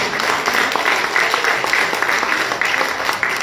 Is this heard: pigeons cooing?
no